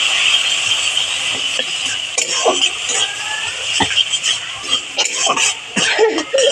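Chopped greens fry in mustard oil with green chillies and garlic in a wok, giving a steady close sizzle broken by irregular scraping and stirring knocks.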